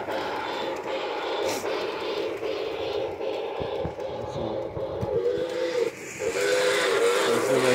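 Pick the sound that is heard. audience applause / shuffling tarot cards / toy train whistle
toy train whistle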